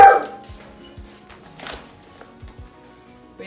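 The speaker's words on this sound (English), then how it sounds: "We have a dog that does not want to cooperate with our filming process." A household dog barks and yips in short, scattered bursts, fairly close, with quiet gaps between the sounds and a louder burst at the very start.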